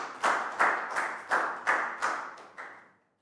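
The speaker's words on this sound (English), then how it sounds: "a big round of applause for Net, guys." Synchronized clapping rings out in a classroom for a student, seven sharp claps in an even rhythm that fade slowly, then stop, with an echoey decay after each beat.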